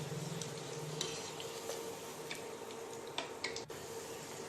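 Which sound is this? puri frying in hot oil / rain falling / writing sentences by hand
puri frying in hot oil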